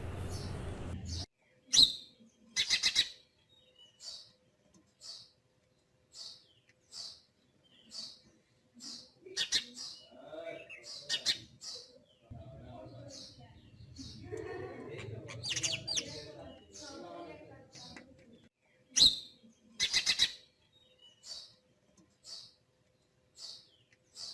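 Small birds chirp in short, repeated high tweets spaced irregularly while pecking grain, with soft rustling and low scratchy sounds between calls close by.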